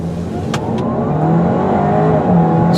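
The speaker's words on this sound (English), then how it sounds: "This engine is pretty mild at low RPM, but hit the throttle." A 2017 Audi A4 Quattro engine pulls hard at full throttle, a loud, close, steady rising drone as the revs climb through the gears, with a brief dip partway before it surges again.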